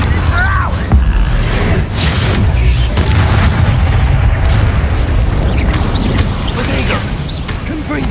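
Spell blasts and explosions in the video game Hogwarts Legacy, loud booming impacts and crackling magic over a dense, continuous battle roar, with combat voices shouting throughout.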